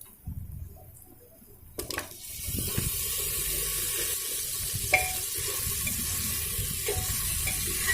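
Pieces of mutton fry with spices in a pressure cooker for biryani: a clatter as the meat goes in, then a continuous close sizzle with occasional stirring scrapes.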